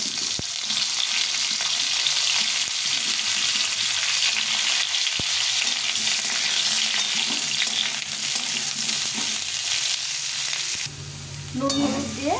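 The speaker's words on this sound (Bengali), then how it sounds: "নুন হলুদ দিয়ে ফুলকপিটাকে ভেজে নিলাম।" Cauliflower fries in oil with salt and turmeric, giving a steady, loud, close sizzle and crackle that runs throughout, with a metallic scrape near the end.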